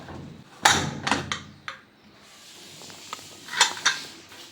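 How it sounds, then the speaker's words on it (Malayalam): A pressure cooker lid is opened after the steam has been released while cooking pumpkin, with several sharp metallic clanks and scrapes, a pause, then another pair of clatters close by. "കുക്കറിൻ്റെ ആവിയൊക്കെ പോയിട്ടുണ്ട് ഇനി നമുക്ക് തുറന്നു നോക്കാം"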